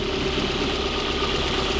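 An older car's engine idles steadily just after being started. It has a low, even rumble with a faint tonal hum, recorded up close with no talking.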